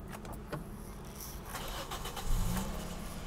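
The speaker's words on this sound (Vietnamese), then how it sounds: "hiện tại xe đã nổ máy" A 2015 Toyota Vios E sedan with about 87,000 km on it cranks and starts, its engine catching near the end and settling into a low idle, close by and moderately loud amid light background noise.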